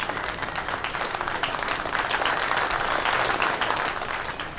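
Applause after a paneer tikka dish is praised at a neighbourhood gathering, steady dense clapping, fairly close and loud, swelling slightly in the middle and easing toward the end.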